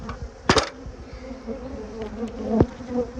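Honey bees from a giant colony buzz during a honey harvest. Their close, wavering hum runs throughout, with a few sharp knocks and clicks from handling the frames.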